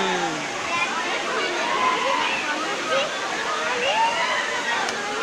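Waterfall water at Mussoorie pours and splashes steadily in a continuous, fairly loud rush close by, with people's voices and a child's speech mixed faintly into the sound.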